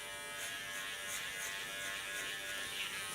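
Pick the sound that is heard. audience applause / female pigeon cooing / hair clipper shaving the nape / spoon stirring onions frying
hair clipper shaving the nape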